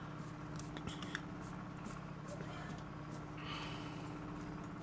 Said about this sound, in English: Vehicle audio south-southwest. Roger. Just sounds like a truck.